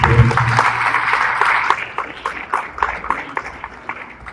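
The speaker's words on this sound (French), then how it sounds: "Je vous demande de les applaudir encore une fois, s'il vous plaît." Applause from an audience at an official gathering where an education minister was present, a steady wash of many hands that thins into scattered, uneven claps toward the end.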